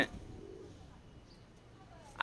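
A soft, low wild pigeon coo from a white female hums faintly beneath a quiet background, with a brief sharper sound at the start and end.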